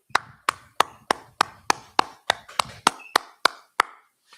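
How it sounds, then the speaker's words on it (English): A brotherhood class of the Israelite School of Universal Practical Knowledge in San Antonio claps in unison, about thirteen sharp, evenly spaced claps in a steady rhythm, close and loud with nothing else heard. "All right, clap it up."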